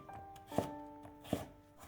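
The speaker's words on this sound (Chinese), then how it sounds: "再改刀切成粗条" Two firm knife chops cut a peeled carrot into thick strips on a cutting board, sharp thunks about three quarters of a second apart, close and clear with a faint hum underneath.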